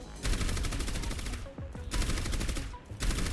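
Orisa's projectile gun in Overwatch fires in rapid sustained bursts, a dense loud rattle of shots that pauses briefly twice before resuming, with no talk over it.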